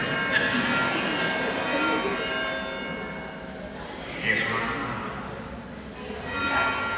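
Church bells ring in a reverberant open space during a Catholic sermon, blending with crowd murmur and occasional voices nearby.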